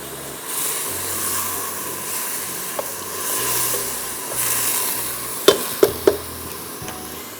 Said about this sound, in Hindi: ये अब मैं इसको भून रही हूँ अच्छी तरह घी में ही